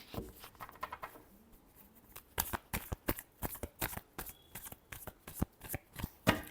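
Playing cards being shuffled by hand, close and quiet, with a run of crisp riffling bursts and sharp snaps in a fairly steady rhythm, with no talk over them.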